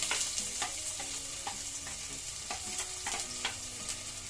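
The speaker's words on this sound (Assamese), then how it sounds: "ইয়াত লৈছোঁ এটা কেৰাহী ইয়াত দিছোঁ ৰিফাইন তেল এয়া ৰিফাইন তেলখিনি ভালদৰে গৰম হ'ব দিছোঁ ইয়াতে দিলোঁ জিৰা ইয়াতে দিছোঁ পিঁয়াজ" Chopped onions fry in hot refined oil with cumin in a kadai, giving a steady close sizzle broken by a few scraping stirs of a spatula, with no voices.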